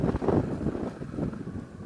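Wind gusting across an exposed fell in the Lake District, a rough broadband rush buffeting the microphone, loudest early and easing slightly, with no talk.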